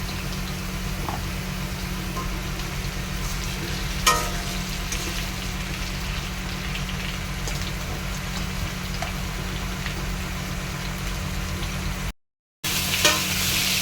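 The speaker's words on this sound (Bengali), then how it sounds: "তো কিছুটা ভাজা হয়ে এসছে" Food fries in a pan with a steady, dense sizzle throughout, broken by a few faint stirring clinks and one brief dropout near the end.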